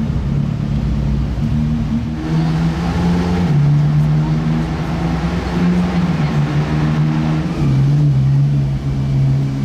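A Koenigsegg supercar drives on the streets of Monaco, its engine droning steadily up close with gentle rises in pitch as it accelerates and shifts, a continuous loud rumble with no talking.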